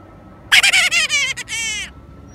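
A zebra dove (Javan dove) in a small trial cage gives a bright, rapid burst of trilling, warbling notes, heard close and loud for about a second and a half, with no voices.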